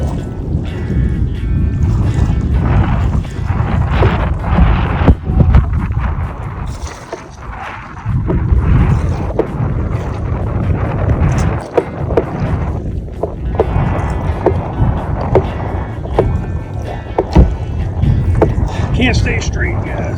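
Wind buffets a small boat on open water on a run out toward Fort Sumter: loud, constant rumbling gusts fill the microphone, with water slapping and someone talking intermittently.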